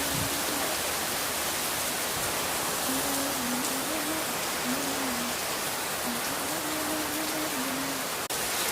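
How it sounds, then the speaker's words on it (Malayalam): Heavy rain pours down in a steady, dense hiss that fills the whole stretch, with a faint voice murmuring now and then beneath it. "ഓക്കെ, ഇവിടെ ഭയങ്കര മഴയാണ്"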